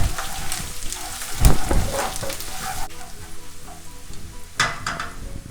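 Ginger and garlic frying in hot oil for a prawn masala give a steady crackling sizzle with louder pops and bursts, close and continuous, with no talking.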